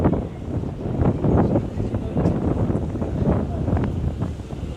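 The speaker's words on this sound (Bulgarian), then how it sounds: "Тук горе малко духа вятър." Gusty wind buffets the microphone in a steady low rumble at a beach resort in Sharm El Sheikh, Egypt, rising and falling in strength throughout, fairly loud and close.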